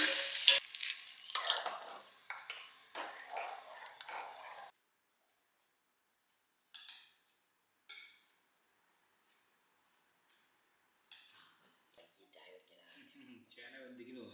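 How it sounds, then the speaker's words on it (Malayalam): A home-cooked curry with buttermilk bubbles and sizzles in a pan, stirred briefly at first, then near silence with occasional faint clinks and distant sounds. "അപ്പോൾ നമ്മൾ മോരൊക്കെ ഒഴിച്ചു, അങ്ങനെ കറി ഉണ്ടാക്കിക്കൊണ്ടിരിക്കുകയാണ്."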